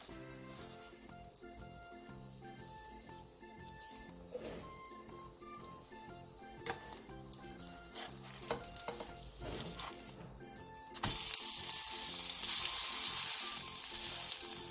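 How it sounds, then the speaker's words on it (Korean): Korean eggplant jeon topped with chili garnish pan-frying over medium-low heat, a faint sizzle under soft background music for most of the stretch, swelling to a louder, brighter frying hiss near the end. "중약불에서 앞뒤로 노릇노릇하게 붙여주세요"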